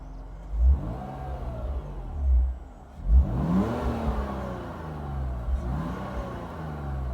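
A BMW car engine with 120,000 miles on it, running close by and revving in several swells that rise and fall over a steady idle, without talk.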